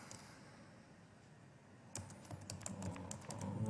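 Quiet keyboard typing in a room with faint background hiss, the keystrokes becoming a brisk, steady patter after a short lull.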